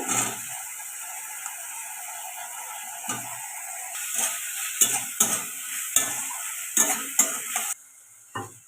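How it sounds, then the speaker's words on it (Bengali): Potatoes tipped into spice paste frying in a pan for a vegetarian paneer curry, with a steady sizzle and repeated scraping stirs that rise in a loose rhythm, close and fairly loud, with no talking. "খুব ভালো করে মশলাটা ভাজা হয়ে গেছে এর উপরে আমি আলুগুলো দিয়ে দেব"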